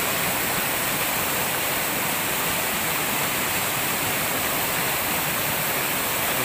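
A cauldron-shaped waterfall, swollen by flooding, pours down into the pool below in a dense, constant roaring rush that stays loud and even throughout, with no voices.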